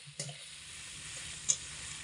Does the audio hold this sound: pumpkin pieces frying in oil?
yes